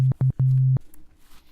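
Pure sine wave tone from an NI Massive synthesizer, played as three short steady pulses followed by one longer held note, clean and alone with no talk.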